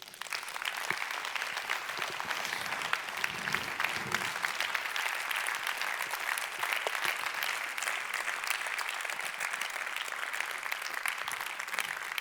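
A large conference audience at a national congress of elderly-care directors applauds steadily for a long stretch, a sustained even wash of clapping with no pauses.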